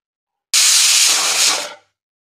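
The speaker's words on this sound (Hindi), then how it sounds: "इन्हें 3 4 5 जितनी चाहे उतनी सीटी बजाकर पका लेते हैं।" A pressure cooker whistle lets out a loud, sustained hiss of steam that bursts out abruptly, holds steady for over a second, then tapers off quickly into silence, while carrot halwa cooks.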